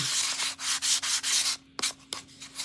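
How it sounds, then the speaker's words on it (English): Light hand sanding of paint with fine 320-grit sandpaper, applied with very little pressure: close, soft rhythmic rasping strokes, several even passes followed by a few shorter scrubs, no voices. "So I use a really fine grit, 320 or higher, and I just really softly"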